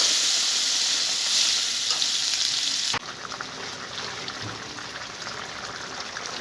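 Curry with bay leaf hitting hot oil in a home kitchen pan, a loud bright sizzle that drops abruptly partway through into a softer, steady crackling fry, close by with no voices.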